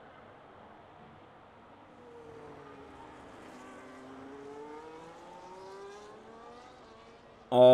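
Safety car and race cars circle the Singapore street circuit in the F1 25 racing game: steady engine whine with rising and falling pitch sweeps at moderate level, ending in a sudden loud burst.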